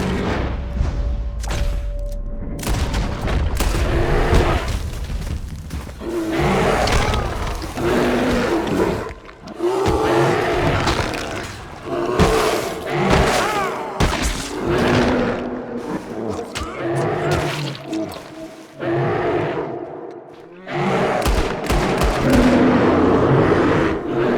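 Gunfire aimed at a charging bear in the game Red Dead Redemption 2, loud repeated shots and booms mixed with animal roars and frantic shouting voices throughout.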